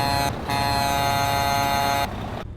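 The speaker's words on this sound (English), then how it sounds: "Hello, new air horn sound. It replaces the stock horn" A custom air horn replacing the stock truck horn in American Truck Simulator, one long loud sustained blare with rich harmonic tones, steady for about two seconds over a low engine rumble.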